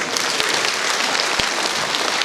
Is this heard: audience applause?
yes